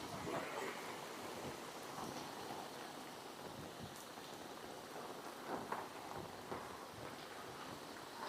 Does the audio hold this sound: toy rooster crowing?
no